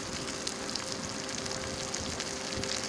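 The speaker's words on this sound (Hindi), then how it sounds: "ये देखिए यहाँ पे जीरा भुन गया है और मैंने डाल दिया प्याज।" Steady close sizzle of cumin and onion frying in a hot pan, a dense continuous crackle with no breaks and no voices.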